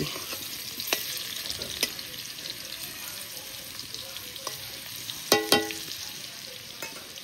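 Potatoes sizzle steadily in a pan over a village-style cooking fire, with occasional scraping stirs and light clinks of a spoon against the pan; faint talk is heard under the frying.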